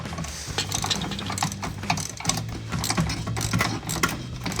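A ratchet with an extension turns a recessed 13mm bolt on a running board bracket of a 2007-2018 Sierra 1500 pickup, with rapid repeated close clicking bursts over a low background hum and no voices.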